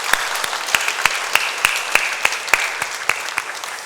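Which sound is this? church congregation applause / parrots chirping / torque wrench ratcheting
church congregation applause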